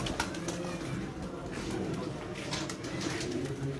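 Pigeons cooing among a flock of racing pigeons, a low repeated cooing under a busy, noisy outdoor background with faint voices.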